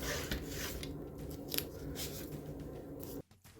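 A paper cutter trims the pages of an old address book, producing a run of close, crisp slicing and snipping strokes over a low hum, ending in a brief quiet gap.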